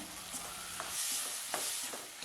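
Close, steady sizzling from a hot pan as chopped capsicum sautés, with a few light scrapes as the pieces are stirred.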